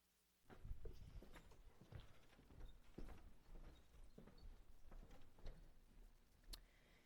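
Horse hooves clip-clop as a sound effect in a staged school production of Macbeth, a steady run of hoof strikes with several sharper knocks, fairly close and alone with no talk over it.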